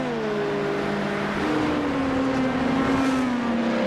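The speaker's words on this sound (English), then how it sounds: "the yellow Ferrari as the LMP2s come through" LMP2 race cars at Road Atlanta in the iRacing sim sweep past with a steady, loud engine drone and whining pitch lines that slide downward as they pass, continuous throughout with no talk.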